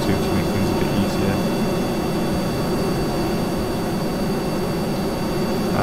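A jet engine roars steadily on an aeroplane climbing in the video game Kerbal Space Program, making a loud, continuous rushing drone with a faint high whine and no breaks.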